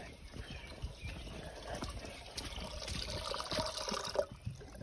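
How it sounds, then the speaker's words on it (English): A greenhouse water tap runs in a steady, soft trickle with a hissing splash, moderately close, with some shuffling and handling noise around it. "Better shut off the water over here."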